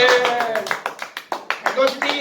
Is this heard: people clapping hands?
yes